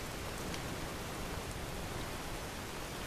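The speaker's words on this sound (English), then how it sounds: "it's very rainy. I could barely see stuff" Steady, heavy rain from a Skyrim weather mod with more realistic storms, a dense continuous downpour at constant loudness throughout, with no voices.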